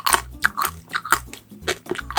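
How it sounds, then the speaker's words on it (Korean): Frozen roll-up jelly is bitten and chewed up close, giving a run of sharp crisp crunches in an irregular rhythm, loud and alone with no talking. "젤리가 거의 뭐 튀김옷처럼 바삭바삭해졌어."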